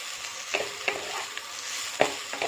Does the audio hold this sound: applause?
no